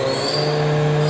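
The spindle of a 2011 Doosan VC 430 twin-table vertical machining center runs at around 3,000 RPM, producing a loud, steady whine with sustained high tones and no voices over it.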